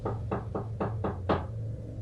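Six sharp knocks on an apartment door, evenly spaced then a slightly louder last one, close and clear over a low steady hum.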